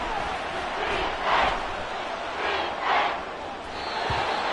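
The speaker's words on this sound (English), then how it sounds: "This crowd turning up the decibel level." Dense stadium crowd noise from an American football video game, a constant roar that swells twice in brief surges, with a commentator's voice over it.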